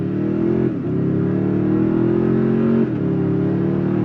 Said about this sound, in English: we are gonna go from a dead stop, since nobody's behind us, on throttle